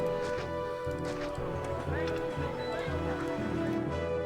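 Horse hooves clip-clop in a steady, brisk rhythm in the city-building game Caesar 3, looping under soft sustained game music.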